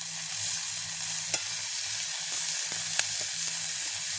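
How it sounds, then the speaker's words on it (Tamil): Onions and green chillies sauté in a pan with a steady bright sizzle, while a few sharp spatula scrapes and taps land irregularly, close and even, with no voices. "நல்லா வதக்கி விடுவோம்"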